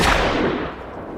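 Gunfire from an action film's shooting-practice scene: a loud, sharp blast that rings out into a fading, reverberant tail, heard alone.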